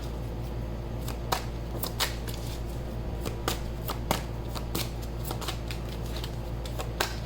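A deck of cards is shuffled and cut into three piles, giving crisp riffling snaps and sharp slaps at irregular intervals, close and clear over a low steady hum, with no talking.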